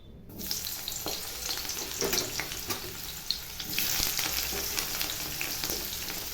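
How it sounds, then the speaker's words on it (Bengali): Eggplant pieces drop into hot mustard oil and fry with a loud, steady sizzle that swells after the first moment and keeps crackling close by. "আমি ওর মধ্যে বেগুন দেবো"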